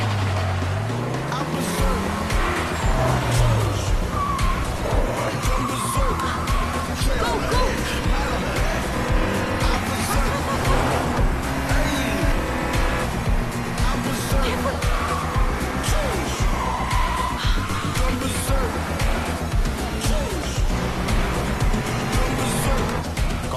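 Cars race and overtake each other on a road, engines roaring continuously throughout with a dense, loud rush of motion noise, while people talk over the din.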